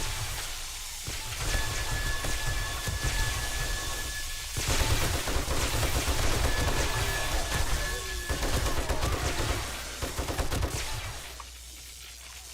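Base turrets fire bullets in the video game 7 Days to Die, a dense, continuous rattle of rapid gunfire that fills the scene, loud and steady for most of the stretch before easing off near the end.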